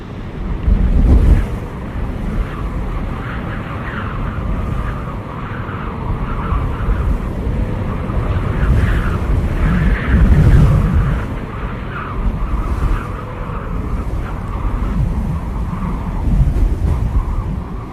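Strong wind blows over the open sea around a sailboat, a loud continuous roar with gusts buffeting the microphone and surf washing below, steady for the whole stretch.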